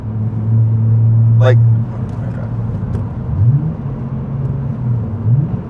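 BMW engine revving with a Pedal Commander throttle controller in Sport Plus mode, a loud low drone that swells then drops, followed by quicker rising rev blips, all under conversation inside the car.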